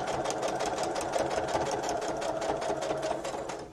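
A sewing machine runs a straight stitch at steady speed, its rapid even needle clatter and motor hum continuous and close for the whole stretch, with no voices.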